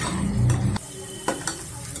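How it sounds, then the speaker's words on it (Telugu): A spoon scrapes and stirs ginger-garlic paste along the bottom of a pressure cooker for chicken biryani, with close scraping strokes over a soft sizzle and a few sharp clinks against the pot. "అడుగంట లేకుండా ఇలా కొంచెం గట్టితోటి లాగుతూ తిప్పుకోండి"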